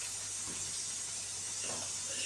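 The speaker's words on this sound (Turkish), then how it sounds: "Ocaklarım foşur foşur yanıyor." Gas stove burners on a kitchen cooktop give a steady, even hiss throughout, moderately close, with faint kitchen clatter and no speech.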